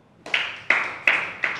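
Children in a group clap four times in a slow, even rhythm, each clap a crisp burst at moderate volume with nothing else heard.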